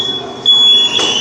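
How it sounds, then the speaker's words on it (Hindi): Emergency alarm blaring during a disaster-management mock drill, a steady high electronic tone sounding continuously and loudly, swelling stronger partway through with a noisy background. "ये देखिए अलार्म बज रहे हैं, ये इमरजेंसी अलार्म है"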